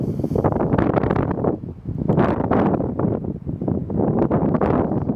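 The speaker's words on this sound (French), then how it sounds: "c'est ultra venteux là ce soir" Strong evening wind on a high lookout buffets the microphone in loud, continuous rumbling gusts that swell and dip without a break, with no other sounds audible.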